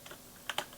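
Code is typed on a computer keyboard. A few soft taps are followed by two sharper, closer clicks in quick succession, alone with no speech.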